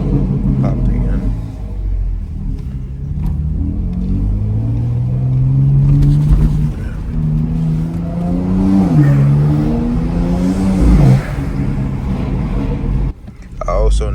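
BMW M4 with an AWE exhaust and RK-Tunes intake revving: a close engine note rising and falling through several throttle sweeps, with crackling pops, all under a steady cabin rumble.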